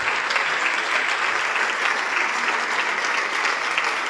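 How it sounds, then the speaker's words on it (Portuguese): A church congregation claps loudly and steadily, dense sustained applause filling the room without pause for several seconds. "vamos aplaudir muito ao nosso Deus."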